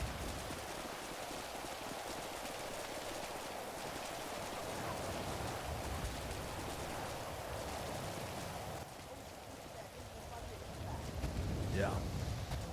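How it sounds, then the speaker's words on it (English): Steady rain pouring down in the game GTA V on the NoPixel roleplay server, a constant hiss of drops that thins briefly near the end while people talk over it. "A break from the rain."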